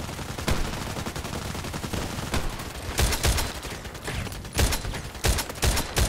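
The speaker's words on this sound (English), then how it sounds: "Blind shooting." An SVD-S sniper rifle is fired blind in a video game, several loud, sharp shots in irregular succession, with a few of them closely paired near the end.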